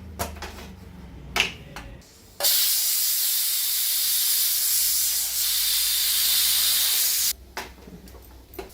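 A pressure cooker on a home stove, cooking snake gourd curry for lunch, bursts into a loud, steady hissing steam release lasting about five seconds, with quieter clicks and kitchen clatter before and after.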